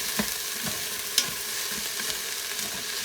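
Food being sautéed in a pan, a soft steady sizzle broken by scraping stirs and one sharp clink of a utensil, close by with no voices.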